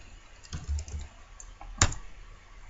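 A few soft keystrokes tap on a computer keyboard as a command is typed, quiet and close, with a short pause between the clicks.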